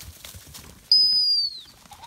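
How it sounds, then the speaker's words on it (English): A flushed game bird bursts into flight ahead of a pointing dog. A sudden, close flurry of wing beats lasts about half a second, with a thin whistle-like tone over it, and quiet field noise follows. "The moment you hear the bird's wing beat, blow your whistle."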